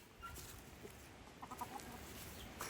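A bird at a bird sanctuary gives a few faint, short clucks scattered over a quiet outdoor background, soft and somewhat distant.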